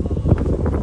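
Strong wind buffets the microphone at a scenic lookout at Ngong Ping on Lantau Island, Hong Kong, a steady, close, low roar with no break across the brief moment.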